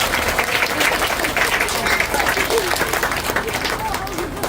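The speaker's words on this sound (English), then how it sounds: "Give yourselves a round of applause." Children clapping together at an elementary school steel topping-off ceremony, a dense, steady burst of applause with crowd noise throughout, fairly loud and close.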